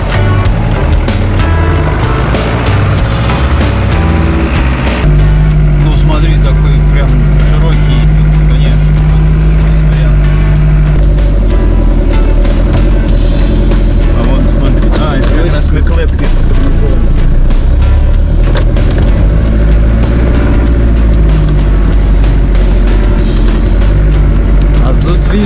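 UAZ off-road vehicle creeping slowly along a grassy forest track, a loud continuous engine drone with rattling and bumping throughout, recorded from inside.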